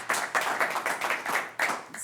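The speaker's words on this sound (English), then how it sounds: "I do want to hear thunderous applause for Faith" An audience claps for a sustainability coordinator introduced at a Traction Thursday talk. The clapping is a brisk, regular rhythm of distinct claps, close and moderately loud, lasting about two seconds.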